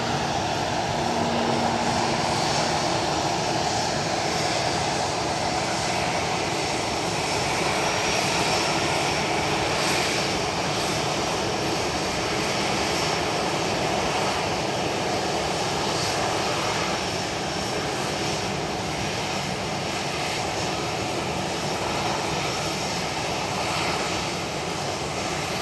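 A KLM airliner taxis toward the runway at Edinburgh Airport, its engines holding a steady, moderately loud whine and rumble for the whole stretch with no voices over it.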